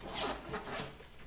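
Soft close rustling and scraping as a boxed HBX 12891 Dune Thunder toy RC car is pulled from its packaging, a continuous quiet rubbing of cardboard and plastic with no voices.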